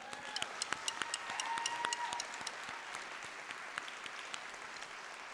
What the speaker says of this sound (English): Let's just do another round of applause for that.